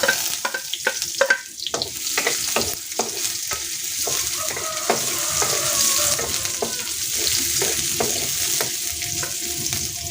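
Garlic and onion sizzling in hot oil for a Filipino snail stew in coconut milk, a steady frying hiss broken by repeated scrapes and clacks of a utensil stirring the pan, with no talking.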